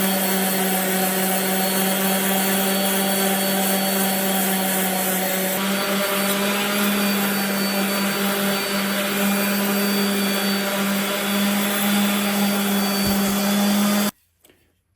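A power tool cuts and sands an Osage orange axe handle, a loud continuous drone that holds steady for about fourteen seconds with a shift in pitch partway through, then cuts off abruptly into near silence.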